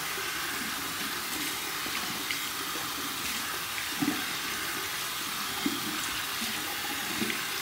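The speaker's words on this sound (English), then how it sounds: "I'm just massaging it out of the knot like this and just running the water underneath there" Lukewarm tap water runs steadily over a shaving brush as the soap is massaged out of its knot, a continuous close hiss with small splashes and no talk.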